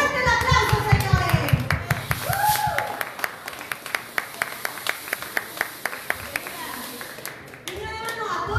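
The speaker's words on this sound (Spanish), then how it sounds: "¡Fuerte el aplauso, señores!" Applause from the audience at a wrestling press conference: sharp, fairly sparse claps in a loose rhythm, with a voice and other speech over a busy room.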